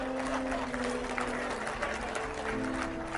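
Applause from an audience at a leadership talk, a continuous moderate rattle of many hands clapping over a low steady hum, with no speech over it.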